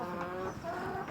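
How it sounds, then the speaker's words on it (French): Cockerels and reformed laying hens kept in cages at a livestock feed producer's farm in Brazzaville, clucking and crowing in a dense, continuous close-up chorus of overlapping bird calls. "dans nos cages, nous avons les coquelets et en bas, nous avons des poules pondeuses reformées"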